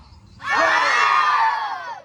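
A class of students in a physical fitness lesson let out a loud, sustained group shout, rising abruptly after a quiet moment and holding for about a second and a half before trailing off.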